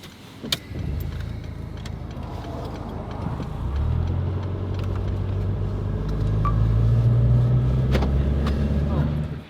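A car engine cranks and catches after a click and a few seconds of quiet, then settles into a low steady idle that slowly grows louder, with people talking nearby.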